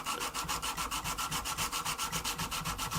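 Hand sanding a steel knife blade with 280 grit paper, a close, even run of rhythmic rasping strokes, roughly three or four per second, with nothing else heard.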